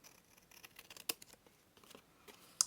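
Scissors snip paper in a rapid series of small, quiet cuts while trimming around the edge of a junk journal page, closing with one sharper final snip.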